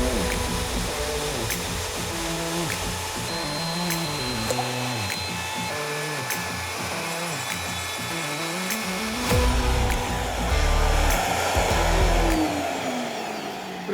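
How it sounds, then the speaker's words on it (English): A shaper power tool routing a bow tie outline and pocket into American walnut for a dining table, a steady loud motorized whine with shifting pitch as it cuts, running continuously throughout. "I'm gonna take the shaper, put it on, and we're gonna cut out our bow tie shape"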